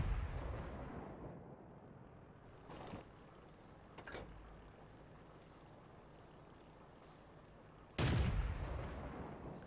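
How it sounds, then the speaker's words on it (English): Artillery and gunfire from a tank game replay: a heavy distant boom opens, followed by a few sharp cracks and a loud blast near the end, with wind-like ambience between shots. "So you're just blind firing at a hill up there."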